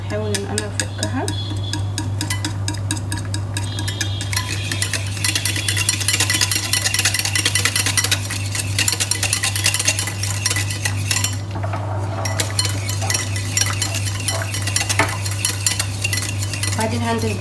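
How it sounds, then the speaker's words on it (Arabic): Sugar lumps being broken up by stirring in a bowl while making molten lava cake: a steady, continuous scraping and clinking of utensil against the bowl, close and fairly loud, with a low hum underneath throughout. "السكر بحط فيه تكتلات سكر كده، احاول ان انا افكها."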